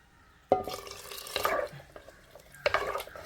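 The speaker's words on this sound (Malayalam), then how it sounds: "ഇതെല്ലാം കഴുകി ഒന്ന് വെള്ളം ഒഴിക്കണം" Water splashes and pours into a pot in three short bursts, a close, wet gush each time with brief drips between.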